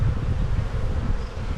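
Honey bees buzzing around an open hive during spring buildup, a close, dense and steady drone mixed with light wind noise.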